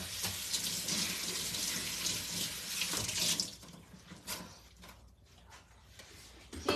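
A tap runs steadily into a sink for a few seconds, then the flow stops, leaving faint drips and small knocks in a quiet room.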